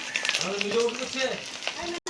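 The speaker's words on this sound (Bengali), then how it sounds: "এখন এখানে ডিম হচ্ছে গাইস, হাঁসের ডিম" Duck eggs fry in hot oil, giving a soft continuous sizzle and crackle close by, with someone talking over it and a brief cutoff near the end.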